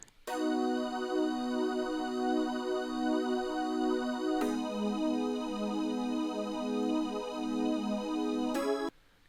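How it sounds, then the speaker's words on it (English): A Roland Jupiter 8 synthesizer plays sustained chords, two long held chords with a smooth bright tone, the second starting midway, then cutting off abruptly near the end; no voices. "we have this Jupiter 8 playing some chords for the final chorus"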